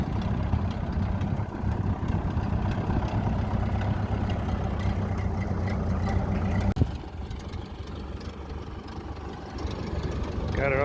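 The engine of a 1930 Ford Model A, started after 40 years sitting as a barn find, idles steadily and close with a rough low rumble, briefly dipping midway, with faint voices in the background.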